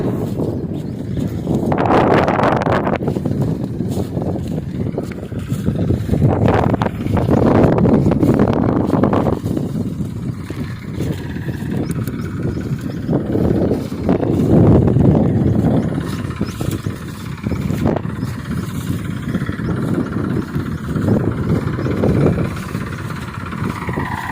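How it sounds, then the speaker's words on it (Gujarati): A tractor engine runs in a groundnut field during harvest, a loud, continuous rumbling drone that lasts throughout, with gusts of wind buffeting the microphone. "અમે ચડી ગયા ટ્રેક્ટર ઉપર, હવે કરી નાખો વળતો।"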